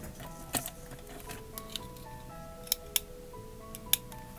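Scissors snip around the edge of a sheet of tracing paper, making faint, scattered crisp clicks and short cuts over a quiet room hum, with no talking.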